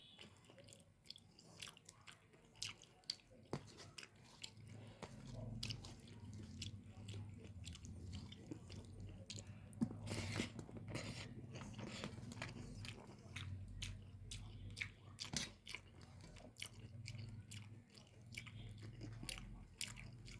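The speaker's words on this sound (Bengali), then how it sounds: "একটা আলু খেয়েছি।" A cooked potato from a red chicken curry is chewed close up, with soft wet squishing and intermittent crunchy bites repeating irregularly over a quiet background.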